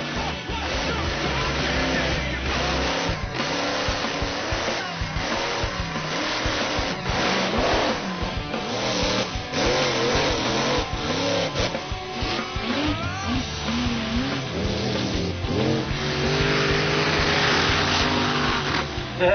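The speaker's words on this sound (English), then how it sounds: "Sam brought his monster truck over Devil's Taxi out to break the world record for the longest wheel stand in a monster truck" Sam's monster truck Devil's Taxi roars loud and unbroken during a world-record attempt at the longest wheel stand, its engine note rising and falling close by for the whole stretch.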